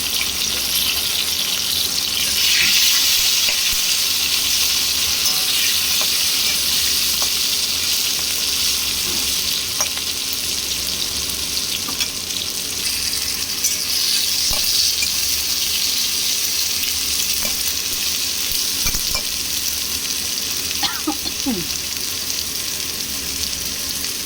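Green chilies and tomato sizzling in a hot pan, a steady close frying hiss with intermittent scrapes and clicks of stirring, no talk.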